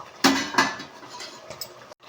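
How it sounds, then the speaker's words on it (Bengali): A lid lifted off a pot of simmering potato curry, two sharp metallic clanks close by followed by lighter clinks and a faint rattle, no voices. "এবার আমি ঢাকনাটা খুলে দেখব"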